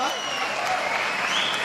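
Steady applause from an audience at a business meeting, a continuous even wash of clapping lasting under two seconds with no breaks.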